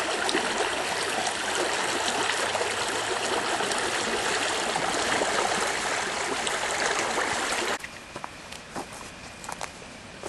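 Water of the muddy, polluted Mudurnu creek flows in a steady, loud broadband rush that fills the clip, easing to a quieter trickle near the end.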